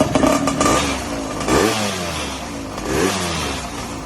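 Yamaha Raptor 700 quad fitted with a 2-stroke Kawasaki engine, running loud and close with a rough, buzzy note and two brief rev swells.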